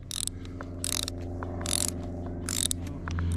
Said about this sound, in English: I got nylon lock nuts to put on here